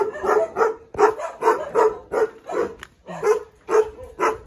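A dog barks repeatedly in quick, evenly spaced woofs, loud and close, with no talking over it, near a pigeon coop.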